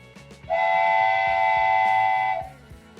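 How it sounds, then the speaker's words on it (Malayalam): A train sounds a long, loud, steady horn blast while arriving at the Harry Potter platform at Universal Studios Florida, with rumbling rail noise before and after. "ഫൈനലി ട്രെയിൻ വന്നിരിക്കുന്നു"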